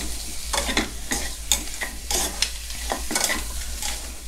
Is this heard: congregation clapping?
no